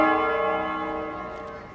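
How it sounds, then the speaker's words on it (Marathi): A ringing bell marks the end of a traditional folk singing performance, one sustained metallic tone with rich overtones slowly fading away, heard close and alone. "बेल वाजली आई."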